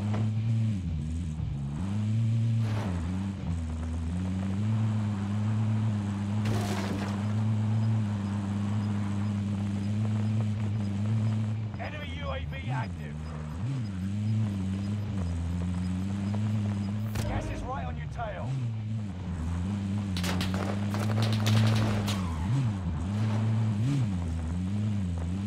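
Engine drone of a car driving in the shooter Warzone, set on the Caldera map, holding steady and loud throughout with people talking over it.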